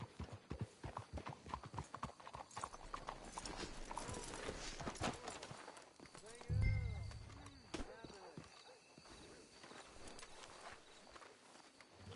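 Horses' hooves clip-clop steadily at a walk in a video game, with a brief whinny midway and game-like ambience underneath.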